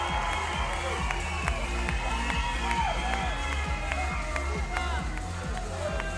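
A crowd at a para climbing final in Arco cheers and claps steadily in a large open venue, a continuous roar under clear commentary from the broadcast.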